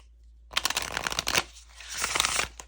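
An oracle card deck being shuffled by hand in two close, crisp bursts of riffling card flutter with a short pause between, and no talk during the shuffles.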